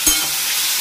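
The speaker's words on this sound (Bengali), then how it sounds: "নতুন আলু ভাজা করছি আমি।" New potatoes sizzle in a pan, a brief burst of frying hiss with a soft stir or clink at the start, close and steady with no talk.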